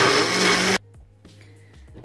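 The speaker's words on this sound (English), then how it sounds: "You also need a blender to blend this mango." A loud blender whirs as it purees peeled mango, running steadily before cutting off abruptly, leaving quieter clanks and handling noise.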